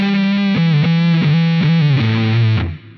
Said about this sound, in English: we are also using some distortion pedals